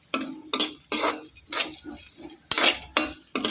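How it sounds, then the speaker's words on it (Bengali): Coconut pieces frying in a kadai over lowered gas until reddish-brown, heard as repeated loud scraping stirs against the pan with a soft sizzle between, close up and with no talking. "বেশ সুন্দর করে লাল লাল করে নারকোলগুলোকে ভেজে নিলাম।"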